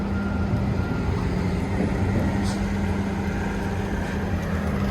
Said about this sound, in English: It's got a little bit of engine noise